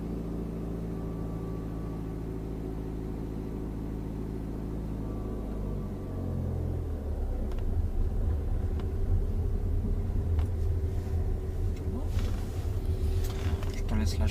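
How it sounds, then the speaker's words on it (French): A car engine in a learner's driving lesson rises from a steady idle hum into a louder, rougher rumble as it accelerates, heard from inside the cabin and continuing for several seconds. "Là j'accélère."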